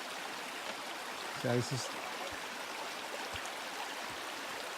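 Mountain creek water flowing at Junction Creek in Tasmania, a steady, soft rushing wash that runs throughout, with a short bit of nearby talk over it.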